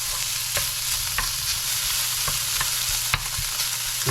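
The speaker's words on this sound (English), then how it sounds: "Get our bacon sauteed up here. Get this on high," Pre-cooked bacon sautéing on high heat in a pan gives a continuous dense sizzle, with occasional clicks and scrapes of stirring, close up and without talk.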